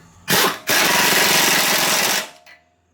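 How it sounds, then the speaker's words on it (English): Power tool, likely an impact gun, running a nut onto a bolt during a camber setup on a fourth-generation Nissan Maxima, a short loud burst then a sustained whirring run of about one and a half seconds, close up, with no talking. "I've got to hold this bolt and run the nut in"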